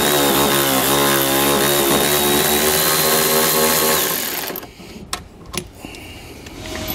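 A power tool with a socket whines loudly and steadily for about four seconds while removing a tie-down bolt on a 2016 Volvo XC90, then stops, leaving a few sharp metallic clicks and taps.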